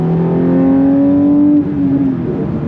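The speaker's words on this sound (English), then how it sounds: "Very, very smooth operation of that flat six, that 4-liter flat six." A 2023 Porsche 911 GT3 Touring's 4-liter flat-six engine with six-speed manual revs loudly and close, a smooth rising tone that climbs steadily, then drops briefly as the revs fall before holding again.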